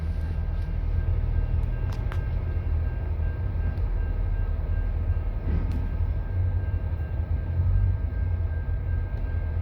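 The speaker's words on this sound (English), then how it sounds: "So, yeah, we got a big train." A Canadian National freight train rolls past at Naperville, Illinois, a steady low rumble of heavy wagons with faint metallic squeals and clanks, continuous and fairly close, with no voices.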